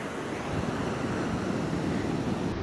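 Surf washes continuously onto a California beach, a steady broad rush of waves with low rumble and some wind buffeting the microphone.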